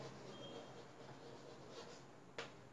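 A pen or marker scratches faintly across a writing surface in a quiet room, a soft continuous rub ending in a couple of sharper taps.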